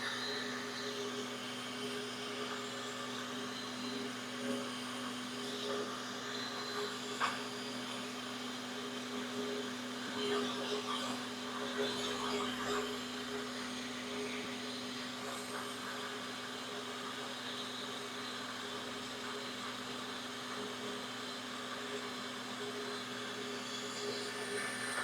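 A tool post grinder on a lathe grinds a metal diameter with a steady high whine and motor hum, close and continuous, roughening slightly midway as contact begins.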